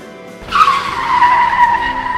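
A car skidding in a Roblox game, a sudden loud tire squeal that starts abruptly and holds as a sustained screech close up.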